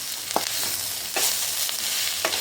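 Vegetable momo filling with salt, chopped coriander and chillies fries in a pan, a constant close sizzle broken by three or four sharp scrapes of a spatula stirring it.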